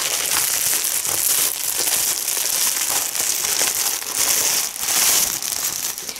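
A plastic bag crinkled while being opened, a continuous loud, close rustling and crackling with a few brief pauses.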